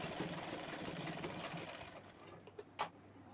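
A sewing machine stitches pieces of old cloth together, a quiet rapid mechanical whirring hum that runs steadily then eases off, ending with a few soft clicks and knocks.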